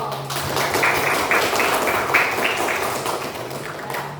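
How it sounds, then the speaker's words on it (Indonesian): Elementary schoolchildren in a classroom clap their hands together, a brisk, dense patter of many small hands that carries on steadily at close range. "Ya, tepuk tangan dulu"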